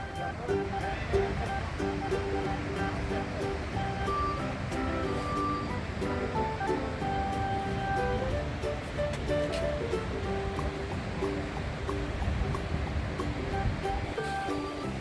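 A waterfall at Netarhat, reached by steps down through dense forest, gives off a steady, broad rush of falling water, with tonal background sound layered over it.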